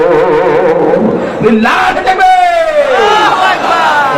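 A crowd at a religious sermon gathering shouts the takbir in unison, a loud collective roar that rises and sustains for a few seconds.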